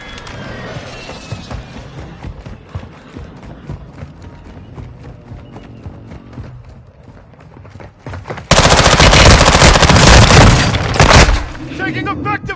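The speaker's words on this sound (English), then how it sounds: "LMG rounds here." Light machine gun fire in a video game: rapid bursts of close, sharp gunshots for several seconds, then a much louder, dense stretch of automatic fire near the end, with voices talking over the action.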